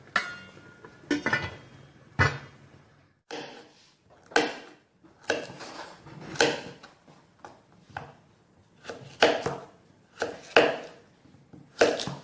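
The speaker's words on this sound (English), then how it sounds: "I'm going to be separating the gizzard right now because I'm going to be slicing it also" A knife slices chicken gizzard on a cutting board for Nigerian fried rice, making a series of distinct, close knocks and cuts at an irregular pace with quiet gaps between strokes.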